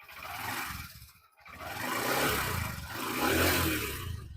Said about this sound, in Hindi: और थोड़ा सा एक्सीलरेट देते हैं।